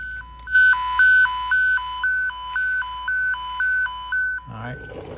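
A Fluke Networks Pro3000 tone probe emits a loud, steady warble, alternating between two pitches in an even rhythm for about four seconds before it stops and a rustle of handling follows.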